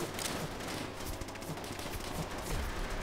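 Bot soldiers open fire in Call of Duty: World at War during a fight against zombies, with a dense, steady wash of battle noise and scattered sharp shots cutting through it.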